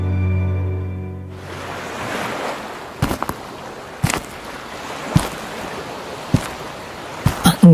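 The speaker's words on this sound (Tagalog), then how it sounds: "Ang ganda ng alon." Sea waves wash steadily along the coast at General Santos, a continuous broad rush of surf and wind with scattered sharp knocks and thumps breaking through, fairly loud and close.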